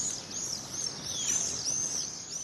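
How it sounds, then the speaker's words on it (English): Swifts call in high, thin screaming trills that rise and fall continuously, sounding fairly close over a soft background hiss, at a Sheffield breeding site. "For many, the sound of swifts marks the start of summer."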